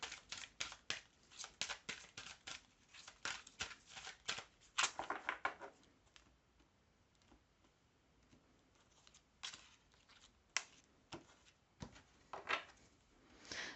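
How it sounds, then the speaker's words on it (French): Tarot cards are drawn from a deck one by one, with quick crisp card snaps and shuffling flicks in irregular bursts, close and fairly faint, with quieter gaps between. "comme d'habitude, je tire 3 cartes"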